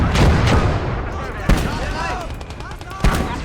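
Mortar rounds and gunfire in the war game Legion of the Damned, sharp booms at about one-and-a-half-second intervals over a constant rumble of battle, with voices talking in German and English.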